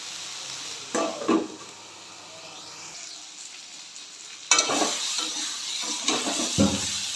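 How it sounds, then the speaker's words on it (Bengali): Chunks of potato and eggplant fry in oil in a pan, giving a steady close sizzle broken by a few scraping stirs and louder bursts as the pieces are turned. "এবার ভালো করে ভাজা ভাজা করে নেবো"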